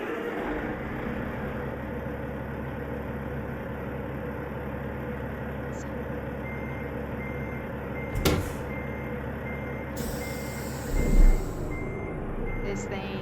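A heavy truck engine in the video game American Truck Simulator drones steadily throughout, with a sharp clunk partway and a brief rise in noise near the end.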